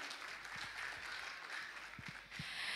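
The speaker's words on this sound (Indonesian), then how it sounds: "Tepuk tangan dulu yang meriah ya Bunda." An audience of mothers and toddlers at a kindergarten end-of-year celebration applauds, a faint, steady patter of clapping in a room with a few louder individual claps standing out.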